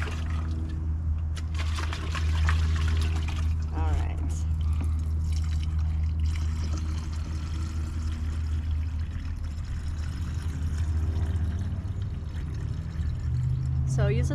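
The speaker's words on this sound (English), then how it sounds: "So I'm just gonna fill this up." Liquid pours steadily into a garden sprayer, a continuous close trickle and splash that lasts throughout, with a person talking softly at moments.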